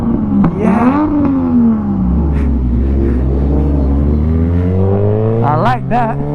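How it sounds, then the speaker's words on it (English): A Yamaha XJ6 motorcycle engine revs on a London street near the Ace Cafe, a loud rising roar with harmonic sweeps and a couple of sharp throttle blips near the end, while a voice briefly speaks over it. "Give us a rev. Wanna hear it? Rev it."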